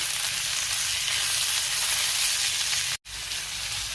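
Coconut masala for chole sautés in a pan, giving a dense, even, close frying hiss that breaks off for an instant near the end, then resumes, with no one speaking.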